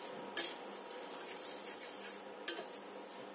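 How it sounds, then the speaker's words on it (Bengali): Mung dal frying in a wok while being stirred, with a soft continuous sizzle and two sharp metallic clinks of a utensil striking the pan a couple of seconds apart, no talking. "এবার মুগ ডালটা আমি ভালো করে ভেজে নিচ্ছি।"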